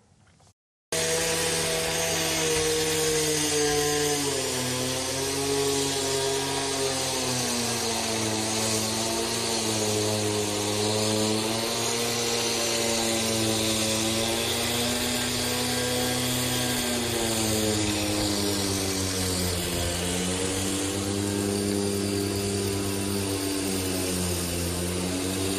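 Heavy repair machinery works on Slaveykov Square in the city, a loud continuous droning engine roar with shifting tonal whine that holds steady for the whole stretch, close and uninterrupted, with no voices.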